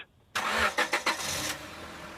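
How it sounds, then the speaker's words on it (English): A car in the Killjoy video game starts up with a loud burst of engine noise, then revs a few times in quick pulses before settling into a steady running drone as it pulls away. "Joy takes off in her car, making her way down the main road."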